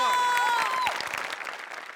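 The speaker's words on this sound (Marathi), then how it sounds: "या एफर्टसाठी जोरदार टाळ्या" Applause for a performer's effort on a Marathi comedy show, a burst of crowd clapping mixed with voices, loudest at the start and thinning out over two seconds.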